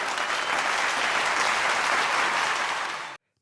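A large audience of about seven thousand people gives a standing ovation after a speech at the Parliament of the World's Religions in America, a dense, steady roar of clapping that holds at full strength and then cuts off abruptly.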